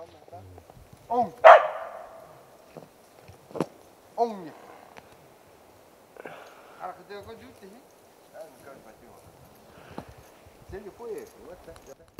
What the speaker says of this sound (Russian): По дороге молодые собаки Эдуарда подняли неплохого атаса, самца соболя.